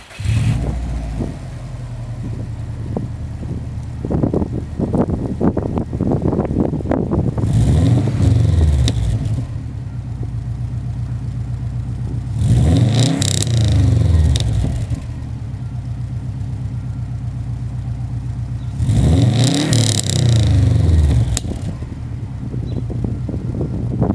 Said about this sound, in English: this car actually sounds pretty good. It does have a downpipe, a little bit of a tune, and an exhaust